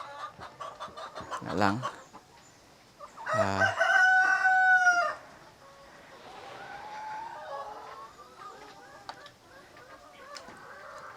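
Inside a chicken house with bedding, a rooster crows loudly nearby while hens cluck and chatter throughout; a brief voice is heard early on.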